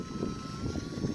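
A Timber UMX model aeroplane hovers on a windy day, its small electric motor and propeller giving a steady buzzing drone under rough wind noise, fairly distant.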